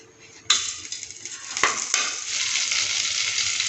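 Butter sizzles in a frying pan before an egg is fried, a loud steady hiss that jumps in sharply and keeps crackling, with a couple of brief metallic clinks from a pan or utensil.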